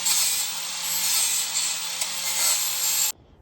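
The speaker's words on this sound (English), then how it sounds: "get the cutoff wheel and just kind of grind everything down so it's not as sharp" A cutoff wheel grinds down sharp metal edges on a Lexus LS400, giving a steady, harsh, hissing rasp for about three seconds before cutting off abruptly.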